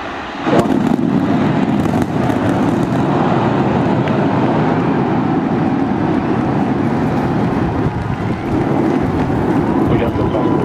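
Continuous deep roar of a SpaceX Starship Flight 8 rocket launch, loud and steady with broadband rumble and crackle for the whole stretch, heard from a distance outdoors.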